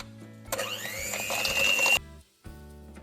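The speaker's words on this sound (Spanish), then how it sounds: "ahora lo vamos a batir con la batidora eléctrica o la de mano hasta que se junte todo" An electric hand mixer beats butter and sugar into a cream for Argentine pastafrola dough, whirring loudly and steadily for about a second and a half before stopping abruptly, with no talk over it.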